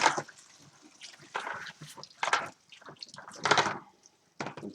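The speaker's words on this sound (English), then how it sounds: "Pour the rest into the sink." Sanitiser liquid is poured into a sink during home beer brewing, coming as a few separate splashing gushes with quiet gaps between them, close up.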